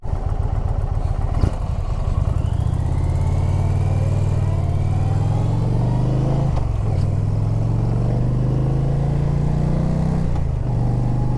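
A car rolls across a dam road, heard from inside as a loud, steady engine drone and road rumble with a slight pitch rise, plus a few soft thumps along the way.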